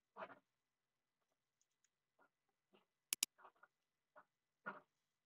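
Scattered keystrokes on a computer keyboard, faint and irregular, with a couple of sharper louder clicks near the middle and no talking.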